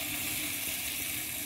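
Spices sautéing in hot oil for a small-fish curry, a steady close-up sizzle and hiss without pause.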